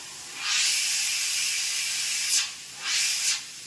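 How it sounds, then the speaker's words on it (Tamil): Steam from a pressure cooker full of egg biryani hisses loudly and steadily, then swells in two short bursts near the end, with no talk over it. "எந்த அளவு உள்ள அந்த ஆவி இருந்தா சத்தம் கேட்குதுல்ல"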